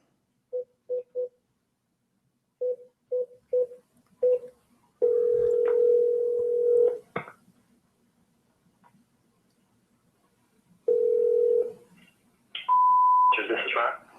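A landline telephone being dialed: short clusters of touch-tone beeps, then a steady dial tone, more tones, and a ringback-like tone before a voice answers.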